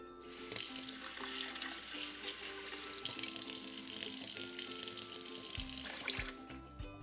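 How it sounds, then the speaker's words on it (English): Dried shrimp rinsed under a running kitchen tap, a steady splashing stream into a sink with shifting water tones and brief interruptions, fairly quiet and close. "Rinse the dry shrimp."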